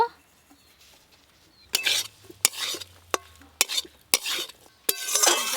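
After a quiet start, a spatula scrapes and clatters against a pan in quick, repeated strokes over a faint sizzle, close by, stirring fried water spinach with poppy seeds.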